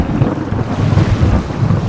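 Stormy sea in an animated short: a steady, loud rumble of thunder and rain with wind buffeting, dense and continuous for a couple of seconds with no voices.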